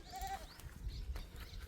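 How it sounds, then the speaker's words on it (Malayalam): A single short bleat from a passing flock of goats on its way up a hill to graze comes early, then faint rustling and scattered outdoor sounds at moderate distance. "അതേ പോണു ആട്ടുംകൂട്ടം"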